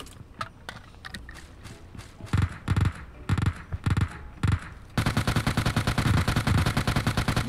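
Beryl rifle fire in PUBG Mobile at about 300 metres, first as spaced single shots and short bursts, then as a dense, loud, rapid automatic stream of sharp cracks near the end.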